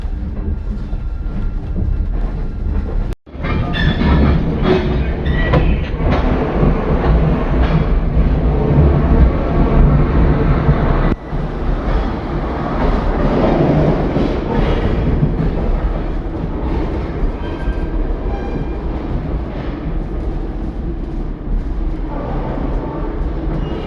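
Railroad coaches roll slowly inside a museum building: a continuous loud rumble with creaks and clanks, plus a sharp jolt near the start and another thump midway, the rolling steady through to the end.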